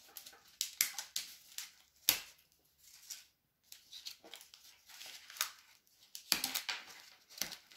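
Scissors cut slowly through thick paper, close and quiet, in a series of irregular crisp snips and rustles separated by short pauses.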